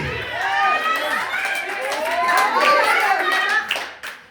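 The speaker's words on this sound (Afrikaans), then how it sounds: "Ons klap lekker aan." A church congregation claps along in a steady, lively rhythm, many hands together filling the room, with voices singing and talking over the clapping throughout.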